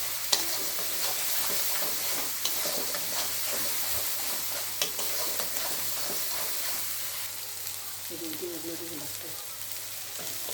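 Cumin, turmeric and chili powders fry in a pan for doi soyabin, making a steady, fairly loud sizzle and hiss with occasional scraping stir strokes; no voices.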